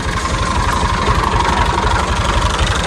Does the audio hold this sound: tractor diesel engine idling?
yes